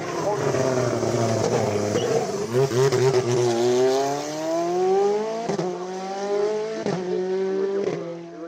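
An Alpine A110 Evo race car at a Marchampt hillclimb, its engine revving and rising in pitch through gear changes, loud and close, with sharp shifts around the middle and end.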